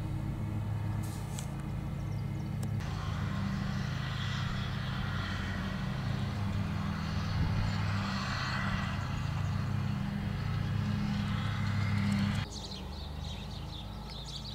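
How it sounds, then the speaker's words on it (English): Lawn mowers drone in the distance across a suburban neighbourhood, a low steady engine hum lasting throughout, with faint outdoor ambience above it. "Listen, everybody's mowing their lawns,"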